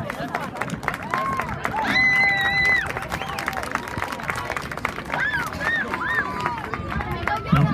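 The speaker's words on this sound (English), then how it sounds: "Let's give both our teams a big round of applause." Applause and cheering from a crowd of spectators at the end of a JV girls' high school soccer game, Plano vs McKinney-Boyd, with shouts and whistle-like calls rising over a steady roar of clapping.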